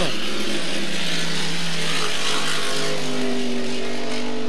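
Racing hydroplane boats at a 1990 Valleyfield regatta qualifying heat accelerate through the last turn, a loud continuous engine roar with rising tones, steady throughout.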